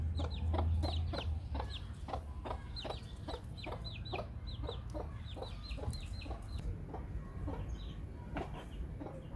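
Hens and young chicks losing their fluff cluck steadily in a backyard chicken run, with repeated short calls close by over a low rumble.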